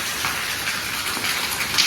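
Rain falls over a village in a steady, dense hiss with no break, fairly close and even throughout, with no other sounds standing out.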